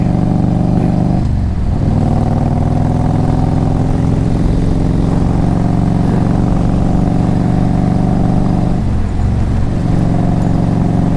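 A 2000 Harley-Davidson Road King Classic engine runs loud and steady for several seconds, its deep low rumble dipping slightly twice as it stutters, with no talking over it.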